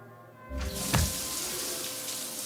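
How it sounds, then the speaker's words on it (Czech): A shower starts running in the video game Cyberpunk 2077: a sudden rush of water with a brief splash, then a steady, hissing spray that continues evenly to the end, with no talk. "Můžeme si tady dát sprchu, nekecej."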